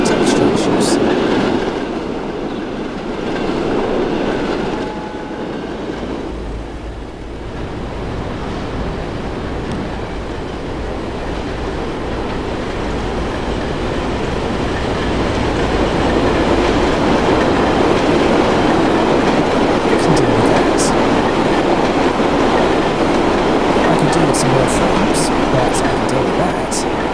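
A train rolls through the countryside in the Transport Fever 2 game, its steady clickety-clack rumble building over nearly half a minute, with a voice speaking over it at times.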